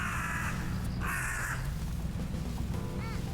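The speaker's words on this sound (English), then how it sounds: "Why was that crow so fucking loud?" Loud caws from a crow in the video game Promise Mascot Agency, two harsh calls in quick succession near the start, over a steady game soundtrack rumble.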